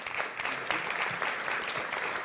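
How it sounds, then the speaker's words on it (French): Audience applause for the speakers at a French cement-industry conference on the circular economy and Greater Paris, a steady wash of many hands clapping throughout at moderate volume. "On applaudit nos intervenants."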